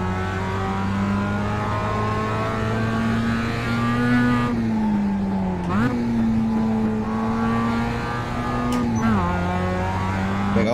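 A 2016 Mazda MX-5 driven at the Nürburgring in the racing game Assetto Corsa: a steady, buzzing engine drone holding pitch, with sudden drops and climbs at gear shifts, constant and fairly close.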